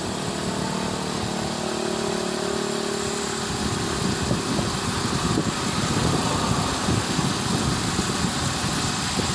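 An all-original factory engine in a family car idles steadily with a smooth, even low rumble that holds close and constant throughout, with no talking.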